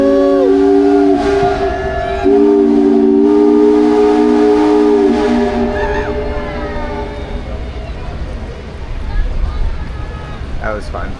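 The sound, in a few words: steam whistle of Minne-Ha-Ha steamboat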